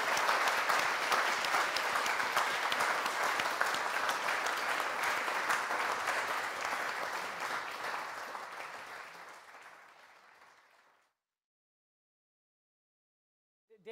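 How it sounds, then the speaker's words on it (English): An audience at an evening art talk at Tate Modern gives a final round of applause, with dense, sustained clapping that slowly thins and stops, followed by near silence. "And again, a final round of applause."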